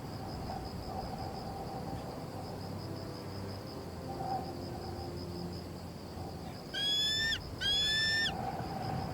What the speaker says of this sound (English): It is a cry high-pitched, ringing and echoing across the water from the bird